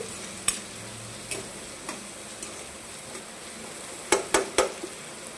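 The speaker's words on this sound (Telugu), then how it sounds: "చూడండి ఆనియన్స్ అప్పుడే కొద్దిగా వేగాయి" Onions with turmeric and salt frying in a pan for egg bhurji, a faint background sizzle broken by sharp spatula clinks and scrapes, a cluster of three louder knocks near the end.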